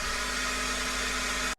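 A hair dryer blowing on freshly painted miniature figures, a steady loud broadband whoosh with a constant motor hum that runs evenly and then cuts off abruptly at the end.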